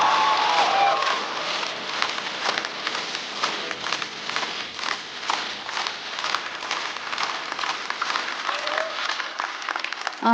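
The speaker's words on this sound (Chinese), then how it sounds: "掌声有请小蝶。" A stand-up comedy show audience gives a dense, steady burst of applause to welcome comedian Xiaodie to the stage. It holds for about ten seconds at an even loudness, with faint cheering mixed in.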